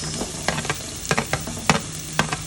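Onions sautéing in a pan for a Filipino chicken feet rice porridge: close sizzling with quick clinks and scrapes of a stirring utensil against the pan, irregular and fairly loud, no talk.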